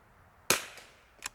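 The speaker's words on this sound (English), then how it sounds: "this is the first time shooting it" A single sharp rifle shot fired through a new Timney precision trigger, close and loud, with a fading tail and a fainter clack about 0.7 seconds later.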